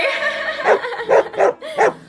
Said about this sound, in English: that dog is going to lose its mind and start barking at you